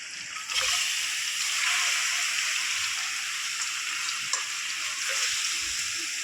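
Steady broadband sizzling of meat cooking in a hot pan for non-veg pickle, constant and close, with a few faint clinks and no voices.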